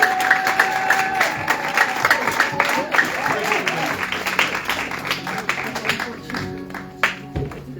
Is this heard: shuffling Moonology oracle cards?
no